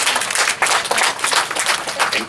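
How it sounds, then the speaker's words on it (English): Applause from an audience at the Ringa Girls school academic clinic: steady, dense clapping for about two seconds, with no clear voice over it. "Thank you for that applause."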